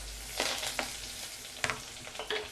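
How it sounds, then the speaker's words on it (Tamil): Onions are tempered in hot oil with mustard seeds and dal at high flame, a quiet sizzle broken by a few sharp stirring scrapes, close up and without talk. "இப்போ நம்ம வெங்காயத்தையும் போட்டு நல்லா தாளிச்சுக்கலாம்"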